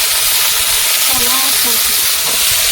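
Vegetables hitting hot oil in a pan, Bengali home cooking: a loud, steady hiss and sizzle that fills the whole moment, close up, with a faint voice underneath.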